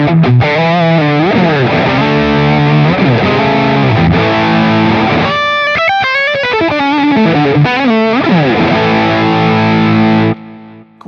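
Electric guitar through a JHS 3 Series Screamer overdrive with the gain maxed, playing loud, saturated, sustained distorted notes and bends in a continuous phrase that cuts off near the end.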